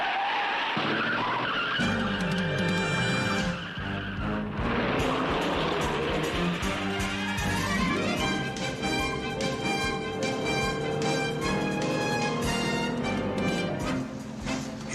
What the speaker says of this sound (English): Roy, that was his car. Turn around